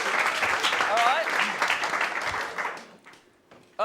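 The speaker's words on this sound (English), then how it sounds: "Round of applause, Hayman" A live comedy show audience applauds a contestant, a fairly loud round that fades toward the end, with voices and cheering mixed in.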